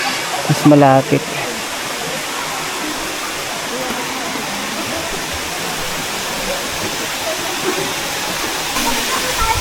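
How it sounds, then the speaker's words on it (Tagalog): Batlag Falls in Rizal pours in a steady, dense rush of falling water, close and constant, with a brief voice early on. "Ayan yung mismong falls pala."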